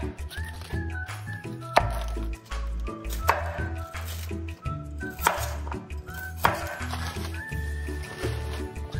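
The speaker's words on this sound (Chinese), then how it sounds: "将芥菜切成条状" Mustard greens cut into strips with a knife on a board, a steady series of close crunchy chops with thuddy knocks, moderately loud over faint background music, with no speech.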